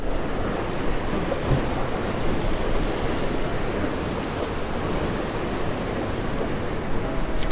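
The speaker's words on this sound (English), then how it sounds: "These waves are real trimming around, boy." Rough sea waves off Trinidad during inshore fishing from a boat, a continuous loud wash of surf and water mixed with heavy wind buffeting the microphone, with no talking.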